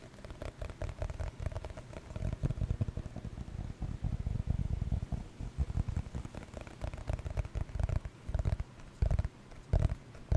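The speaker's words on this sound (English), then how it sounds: "Stomach growl you heard, that was mine, that wasn't yours." A low, gurgling rumble of a stomach growling, continuous and uneven, close and fairly quiet with no talking.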